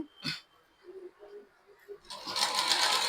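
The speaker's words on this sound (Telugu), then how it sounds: "సో ఈ మార్జిన్ మీదే కుట్టు పడేటట్టు అయితే కుట్టుకుంటూ రావాలండి." A sewing machine stitches invisible piping onto the back panel of a blouse, its dense buzzing run starting near the end after a stretch of quiet handling noises.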